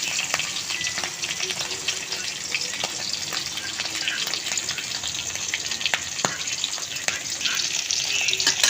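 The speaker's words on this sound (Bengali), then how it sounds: "এই যে মাছটা একটু হালকা ভেজে নেব।" Pieces of roe-filled Padma hilsa fish fry lightly in hot oil, a dense continuous sizzle close by with scattered crackles and faint utensil clicks, loud and steady from start to finish.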